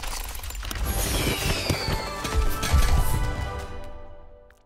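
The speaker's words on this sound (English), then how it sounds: "Ready for the fireworks to begin." A dense burst of Lunar New Year fireworks crackles and booms, with sizzling trails and rumbling blasts that swell, then fade away.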